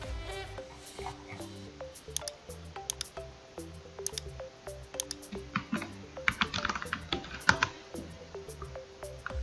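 Typing on a computer keyboard, a quick irregular run of light key clicks and taps close by, growing busier toward the end, with no voices.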